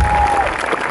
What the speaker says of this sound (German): Ein Applaus für René, bitte.